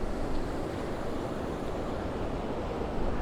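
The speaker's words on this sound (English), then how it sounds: "get the waves hitting some of the rocks here" Ocean waves crash and wash against coastal rocks on a windy shore, a dense, steady roar of surf filling the whole stretch with no voices.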